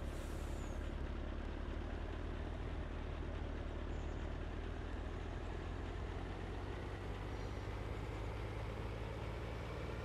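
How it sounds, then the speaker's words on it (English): A flatbed truck driving in Farming Simulator 19 gives a steady, dense engine drone and rumble that holds constant throughout with no pauses, close and moderately loud, with no voices over it. "this is a fun truck to drive with the flatbed on the back"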